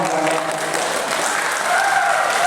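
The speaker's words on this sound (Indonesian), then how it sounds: "Tepuk tangan." Students at a school Ramadan boarding program break into sustained applause, a dense, even wash of clapping with a few voices faintly audible beneath it.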